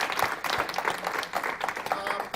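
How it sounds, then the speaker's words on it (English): Audience at a speaker-series talk gives the speaker another round of applause, dense steady clapping heard at moderate distance with faint voices mixed in. "Maybe if we could just please give her one more round of applause"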